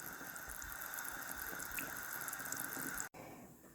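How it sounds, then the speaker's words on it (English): Eggs boiling in a pot of water, a steady continuous bubbling wash of water sound close by that cuts out briefly near the end, with no talking. "It's starting to boil, so you boil about 10 minutes."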